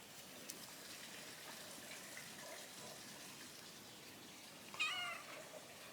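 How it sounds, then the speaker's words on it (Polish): A cat gives a single clear meow near the end, close by, following a faint steady background hiss of running water with a small click near the start; no one speaks. "A kto tu przyszedł, mój gadający kotek?"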